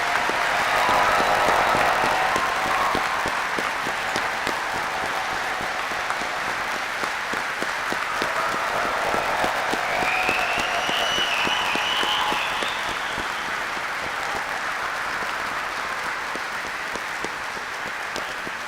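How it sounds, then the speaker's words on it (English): A large audience at an Army flight school graduation ceremony applauds in a long, sustained round of dense clapping that fills the hall, steady and loud and tapering slightly over time, with faint cheers. "Please join me in a round of applause for the Army's newest aviation warfighters."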